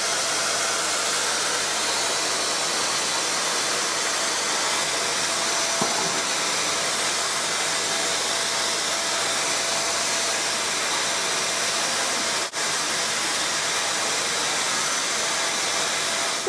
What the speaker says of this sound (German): Naja, jetzt wird erstmal gesaugt.